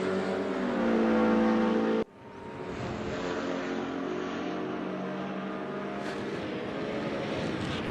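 Race car at Bathurst in a racing video game, a loud sustained engine drone that cuts off abruptly, then resumes as a steady rising engine note with a faint passing whine near the end.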